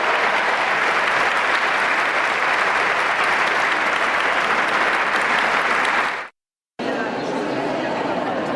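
Loud, sustained applause from a large audience at a religious testimony talk, a dense steady roar of clapping that runs for several seconds, cuts off abruptly, then resumes just as strongly.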